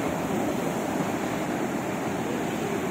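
Sea surf rolls onto the shore at Odesa on a cool late-October evening, a constant broad wash of water with wind buffeting the microphone, loud and unbroken with no voices.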